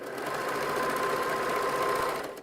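A sewing machine runs a fast, continuous three-step zigzag stitch over fold-over elastic on doll underwear fabric, a steady close whirring hum that tapers off at the end, with no voices.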